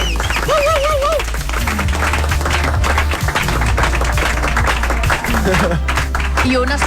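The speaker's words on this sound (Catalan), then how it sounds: "aquest gran aplaudiment que tornem a revalidar a tots els aquí presents" Applause from the audience at a karaoke contest, a dense, steady wash of clapping lasting several seconds with voices and music mixed underneath.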